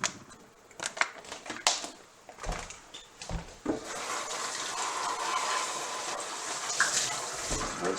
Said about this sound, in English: Rinse out the container so it doesn't collect a lot of smells in the garbage